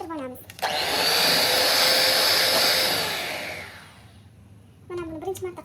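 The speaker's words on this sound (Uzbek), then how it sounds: "Yaxshilab ko'pirtirib mikser qilib olamiz." An electric mixer whips eggs with sugar for mini cupcakes, a loud steady whirring drone that runs for about three seconds and then winds down, with brief talk before and after.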